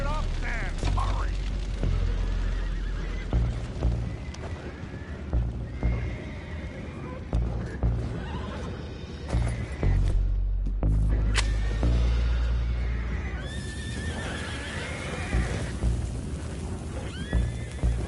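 Horses in Red Dead Redemption 2 whinny and neigh repeatedly amid clattering hooves and low booms, the calls loud and close, recurring every few seconds.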